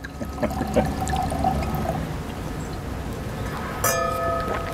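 Water and rosé wine are poured into glasses in a soft, steady, close trickle with faint clinks of glass, then a brighter splash and ring near the end, and no one talks.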